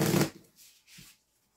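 Tarot cards shuffled in a short riffle, a loud burst at the start followed by two softer rustling passes, close up with no talking.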